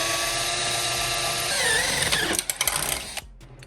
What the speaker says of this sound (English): you're going to drill through the hinge and the hood